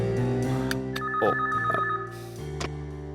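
A phone rings indoors with a tonal ringtone melody of stepped electronic notes, loud and close, with no voices over it.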